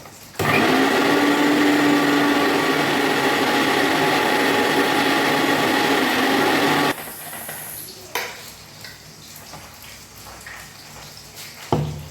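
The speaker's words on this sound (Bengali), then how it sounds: "আদা আর লঙ্কা এটা মিক্সিতে পেস্ট করে আসি" Kitchen mixer grinder whirring loudly and steadily for about six seconds while grinding ginger and green chili into paste, then cutting off, leaving quieter kitchen clatter and a few knocks.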